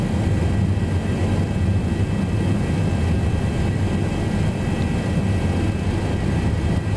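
A Zibo Boeing 737 jet climbs heavily after takeoff from Los Angeles in X-Plane 11, its engines a steady, loud, unbroken roar with no speech over it.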